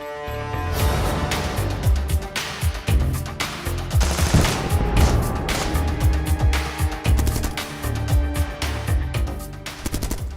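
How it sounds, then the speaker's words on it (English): Machine guns firing at a fortified Ukrainian position, dense bursts of rapid loud shots crackling and overlapping over a rumbling vehicle background for several seconds. "They quickly reach the firing line and start firing machine guns at the Ukrainians."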